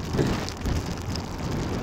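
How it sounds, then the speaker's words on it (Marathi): Monsoon rain falls during a ride from Mumbai to the Konkan coast, a dense, steady rush of drops that stays close and fairly loud for the whole stretch. "लागला पाऊस यास."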